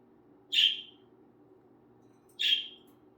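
A pet budgerigar indoors gives two short, high chirps about two seconds apart over a faint, steady background hum.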